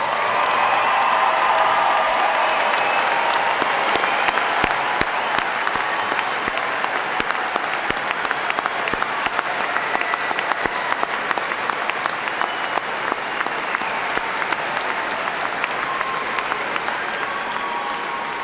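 A large crowd applauds a graduating class at a university commencement ceremony, with dense, sustained clapping and scattered cheers and whoops that fill a big hall for a long stretch before slowly easing.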